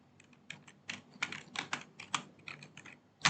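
Typing on a computer keyboard while writing code in Visual Studio Code produces a quick, uneven run of light key clicks, close and fairly quiet, with a louder keystroke at the end and no speech.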